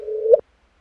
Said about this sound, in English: that is the sound of two black holes, each of about 30 solar masses